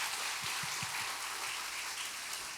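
Congregation applause during a church worship service: a steady, dense wash of clapping that sounds fairly distant and soft, with no voices over it.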